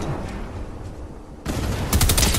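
A bomb explodes in the video game Fortnite, with a muffled rumbling build followed by two sudden loud, crackling blasts close by in quick succession.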